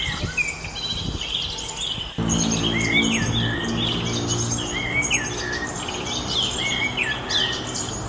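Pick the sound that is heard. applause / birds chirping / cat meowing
birds chirping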